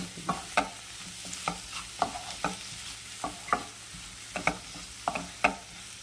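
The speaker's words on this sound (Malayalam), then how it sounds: "എന്നിട്ട് മസാല മുക്കുന്നത് വരെ നന്നായി ഇളക്കി വെക്കുക." Masala for butter potatoes fries in a pan while a spoon stirs it, giving a soft background sizzle and a string of sharp scraping clinks at an uneven rhythm, close and fairly quiet.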